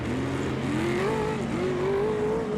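Ultra4 off-road race vehicles on a short course at night, an engine revving and sweeping upward in pitch as a vehicle pushes through a tight turn, loud and continuous, no voices.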